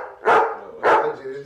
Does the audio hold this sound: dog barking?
yes